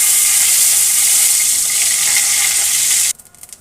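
A torn bay leaf hits hot oil in a pan while a boal catfish dish is being cooked, giving a loud, steady sizzling hiss that stops abruptly just past three seconds.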